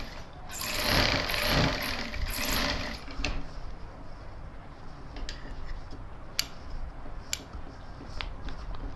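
A sewing machine runs a burst of stitching along a gents suit collar at close range, then stops, leaving scattered ticks and clicks from the machine and handling with no talk.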